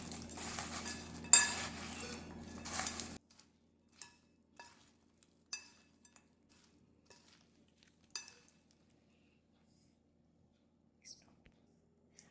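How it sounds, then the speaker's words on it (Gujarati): Two spoons toss and mix farali bhel, a fasting-style snack topped with pomegranate seeds: about three seconds of dense rustling and scraping, then sparse, light clinks and taps spaced apart in near silence. "હવે આપણે 2 ચમચીની મદદથી એને મિક્સ કરી દઈશું સરસ મજાનું"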